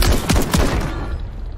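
Fire shotgun blasts in a first-person shooter match, a few loud booming shots in quick succession up close, each trailing off into a rumbling decay with no talk over them.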